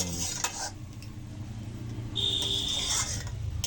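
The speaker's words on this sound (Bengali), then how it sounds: "নাড়াচাড়া করে নেওয়া হচ্ছে আর আজকে শাক রান্না করছে" Kolmi and drumstick greens cooking over a clay stove, stirred with soft scraping and clinks of a utensil against the pot, followed by a brief thin metallic scrape partway through, all fairly quiet.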